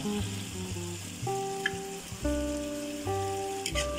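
Sardines fry with garlic and onion in a pan, a crackling sizzle that swells and settles as pieces shift, close and fairly loud, with faint background tones and no talking.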